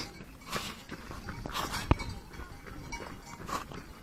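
Cowbells clank and jingle in irregular bursts from cows grazing on a mountain pasture in the Dolomites, with soft footsteps and outdoor rustle around them.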